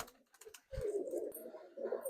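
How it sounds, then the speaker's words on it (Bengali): A pair of Malwai pigeons coo in a close run of low, throaty, rolling calls, with softer stirrings before the cooing swells and then repeats. "তো একজোড়া মালবাই পায়রা দেখাচ্ছি"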